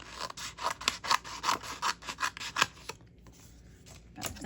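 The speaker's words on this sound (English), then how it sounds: "I'm going to take my scissors and I'm going to just cut" Scissors cut paper for a vintage notebook in a quick series of close, crisp rasping snips, about a dozen in a row. They pause briefly and then start again, with no talking.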